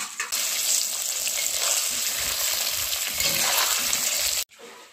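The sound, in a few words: paneer lightly frying in a pan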